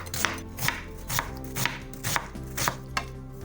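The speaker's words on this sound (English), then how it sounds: "Chop half an onion and 3 garlic cloves." A knife chopping half an onion and garlic cloves on a cutting board, seven crisp evenly spaced thuds in a steady rhythm, close and clear with no talking.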